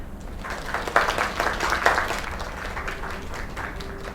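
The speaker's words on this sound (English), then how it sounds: "Another round of applause." An audience applauds with a dense, steady wash of clapping at a live performance, a few louder bursts standing out over several seconds, with no voices on top.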